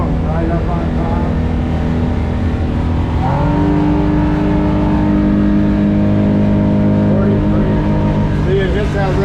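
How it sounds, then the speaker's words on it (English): Boat powered by a Ford F250 engine, running at full throttle on a river up to its rev limit. The engine drones loud and continuous, pitch climbing and then holding high, with steady harmonic whine throughout. "it hits that rev limit right there, so it definitely needs to be repropped"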